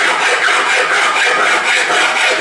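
Continuous rhythmic rasping of a finer second-cut file across a brass plate, quick even strokes blending together, close up and steady with no voices.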